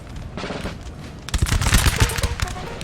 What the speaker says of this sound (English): the Russians here are firing back at the troops, like the French troops here